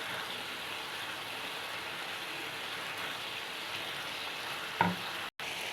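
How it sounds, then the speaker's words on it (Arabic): Chopped tomatoes sizzle and crackle in a kebab pot as they are stirred, a soft, steady frying hiss with a single clink of a spoon near the end. "هنحط الطماطم بتاعتنا نقلبهم برضو معاه كويس جدا"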